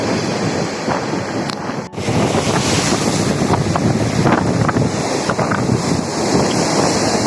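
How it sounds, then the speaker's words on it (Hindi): Strong, rough waves break at Yucca Beach in Bujumbura, Burundi, a loud steady wash of surf with heavy wind buffeting close to the microphone and one brief dropout partway through. "पानी की लहरें इतनी तेज हैं कि डर लग रहा है मुझे भी"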